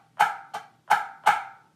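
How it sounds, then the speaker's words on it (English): Four crisp drum strokes, spaced like eighth-note accents, play alone and close, with the second stroke softer than the others. "First two beats are going to sound like this."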